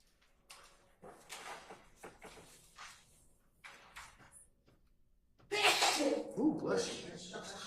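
A single sharp sneeze bursts out in a courtroom during a criminal trial, loud and close, right after stretches of quiet murmured talk and rustling.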